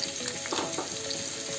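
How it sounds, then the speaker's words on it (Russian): Carrots frying in oil in a pan, a steady close sizzle with crackling and some stirring over about a second and a half, with no talking. "теперь на этом же масле обжариваю морковку"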